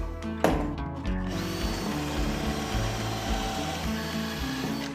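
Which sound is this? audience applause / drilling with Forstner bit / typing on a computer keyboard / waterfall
drilling with Forstner bit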